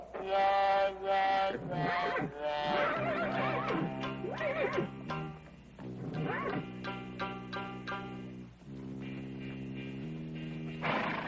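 A horse whinnies loudly several times in a row, long shrill neighs with short pauses between, close by and with no talk.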